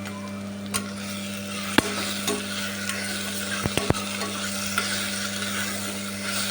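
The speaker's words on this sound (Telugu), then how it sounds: "పుదీనాకు పేస్ట్ని కూడా వేసుకున్నాం. దీన్ని 1 నిమిషం వేగనిద్దాం." Mint paste fries in a pan with onion and potato for pudina rice, a steady close sizzle with occasional clinks and scrapes of a stirring utensil.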